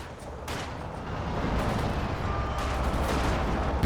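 Attack-ground gunfire in Company of Heroes 2 during a 2v2 match, a dense, continuous rumble of shots and blasts building steadily in loudness.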